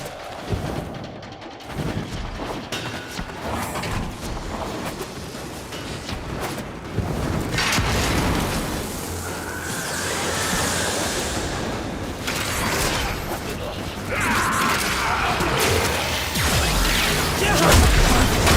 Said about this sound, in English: Excavator is ready to go.